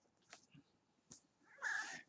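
A real cat makes faint, short chirps and sounds, then one longer, louder meow near the end, close by in a quiet room with no talk.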